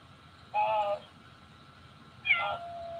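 A cat gives two distinct meows about two seconds apart, fairly close and clear against a quiet indoor background.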